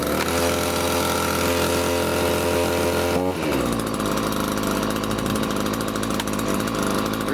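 A Prorun PCS214 14-inch gas chainsaw runs at a loud, high-pitched buzz, then drops abruptly to a steady, rattling idle, close and continuous.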